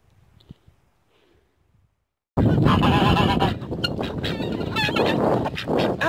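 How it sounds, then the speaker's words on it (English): After near silence, a flock of geese bursts into loud, overlapping honking calls nearby, continuing in a noisy chorus with wind rumble underneath. "I hope you can hear me over the dang wind and the birds"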